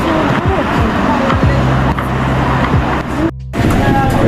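Evening road traffic at a bus stop in Casablanca, with loud nearby cars and buses passing in a continuous engine roar, a brief sharp break near the end, and voices under the noise.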